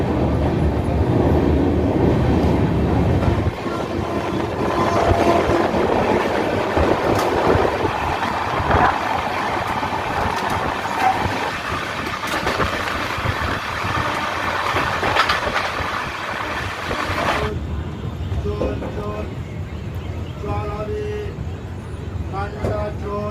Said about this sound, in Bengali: রাধিকাপুর এক্সপ্রেস চলে এসছে তার প্রথম স্টপ নৈহাটিতে